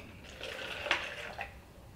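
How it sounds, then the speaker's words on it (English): Nutrient water poured out of a small hydroponic container, a soft splashing trickle of moderate loudness with a couple of brief louder gushes, heard alone. "So what I would do is I would just pour it out."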